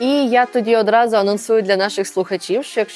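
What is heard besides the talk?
No everyday noises stand out.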